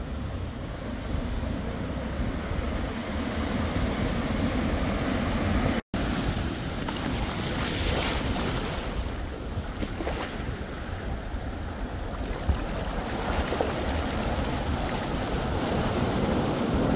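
Ocean waves wash onto Tangalle beach in Sri Lanka, a continuous broad roar of surf mixed with gusting wind buffeting the microphone, fairly loud and steady with no speech.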